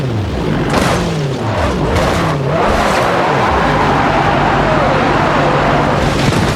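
A Dodge Charger in the BeamNG Drive driving game accelerates toward 600 mph, its engine a loud, continuous roar with rising whine and a dull boom early on.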